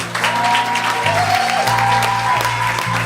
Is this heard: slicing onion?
no